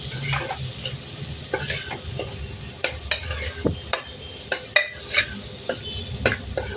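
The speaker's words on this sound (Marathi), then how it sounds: "तर आपली गवार छान तेलावर परतली" Cluster beans and potatoes sauté in hot oil with a close, continuous sizzle, broken by repeated scraping strokes of a spatula against the pan that come in uneven bursts.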